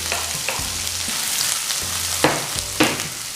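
Sliced onions with chopped garlic, green chillies and a little salt sauté in a pan, a steady sizzle with stirring scrapes and a few sharper clinks, alone and fairly quiet.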